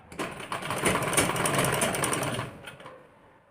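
A sewing machine runs steadily for about two seconds while stitching piping onto a blouse, a close, even mechanical whir that ramps up and then slows to a stop, with no talking.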